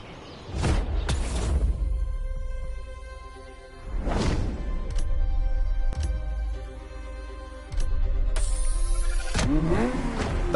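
A Ferrari F50 in The Crew Motorfest revs loudly in several surges, engine note climbing and falling with a whooshing pass-by near the end, no voices over it.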